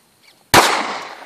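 A single loud gunshot cracks out during a nilgai hunt, a sharp broadband blast that decays over about a second, preceded by faint rustling.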